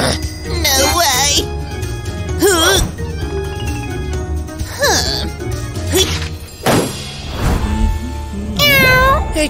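A cat meows several times in a busy, playful indoor scene, the meows rising clearly among children's voices, excited shouting and occasional thumps, loud and close throughout.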